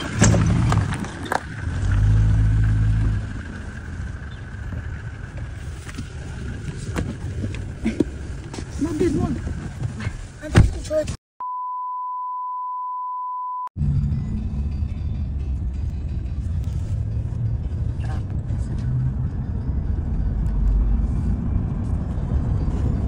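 A family car's engine rumbles steadily while driving, a continuous low road noise under people talking, broken by a brief pure electronic tone in the middle.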